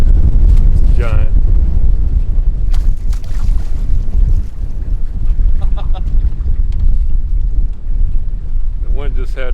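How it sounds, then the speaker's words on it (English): Strong wind buffets the microphone from a boat on a lake, giving a loud, constant low rumble across the whole stretch, with brief voices cutting through now and then. "The wind just had to pick up."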